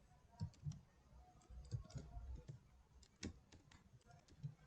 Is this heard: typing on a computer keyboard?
yes